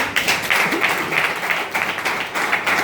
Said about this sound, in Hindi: एक बार जोरदार ताली इनके लिए